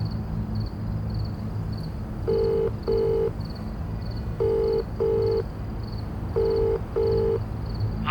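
A telephone dials a call, with paired electronic tones in three short clusters of two against a quiet background with a faint repeating high beep and low hum, and no talking.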